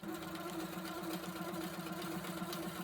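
Longarm quilting machine stitching close to the fabric edge, a steady, fairly faint motorized hum with a rapid regular needle pulse running throughout without pause.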